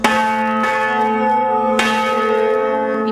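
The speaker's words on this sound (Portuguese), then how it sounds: "o sino mais antigo foi fabricado no ano de 1750" A large, heavy church bell cast in Portugal in 1750 rings loud and close, with two clear strikes whose rich, sustained harmonic tones hang and overlap in the air.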